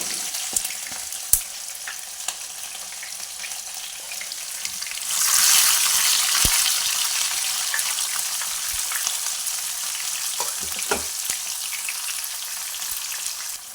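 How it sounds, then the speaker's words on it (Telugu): Squeezed bitter gourd pieces fry in hot oil with a steady, close sizzle that swells louder midway and continues with occasional sharp crackles and pops, with no talking. "ఇప్పుడు మంచిగా నూనెలో ఎర్రగా అయ్యేదాక ఫ్రై చేసుకుందాం"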